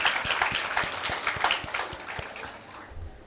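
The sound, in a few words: audience applause at a conference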